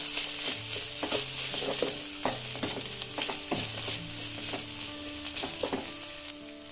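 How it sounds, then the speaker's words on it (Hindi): Grated potato fries in a pan with turmeric, a continuous sizzle with stirring scrapes running under a melodic musical backing throughout. "अब मैं इसके अंदर ग्रेटेड आलू जो लिया हुआ है उसको डाल लूंगी।"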